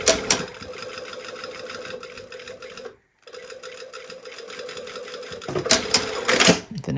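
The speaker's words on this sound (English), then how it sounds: "now we're just going to sew at that 3/8 of an inch where we were sewing the collar on" A sewing machine stitches a collar seam on a polo neckline, its fast steady mechanical whirring running close and loud, stopping briefly once before resuming, then ending with a few clattering handling noises.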